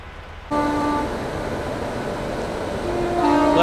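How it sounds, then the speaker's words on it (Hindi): A train sounds a sustained horn at New Delhi railway station during heavy morning traffic. The horn blares, then fades and returns over the steady rumble of rolling stock close by. "सुबह सुबह नई दिल्ली रेलवे स्टेशन पे इतना हैवी ट्रैफिक रहता है ना। वहाँ से गाड़ी आ रही है, एक और आ रही है"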